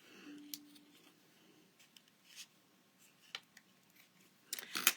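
Scissors snip string ends several times, short sharp clicks spaced irregularly, with a cluster of louder crisp snips near the end, all close and without talk.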